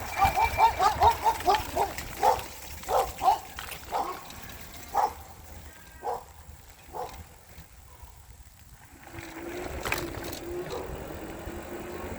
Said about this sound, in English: Should hear some dogs yapping in just a second.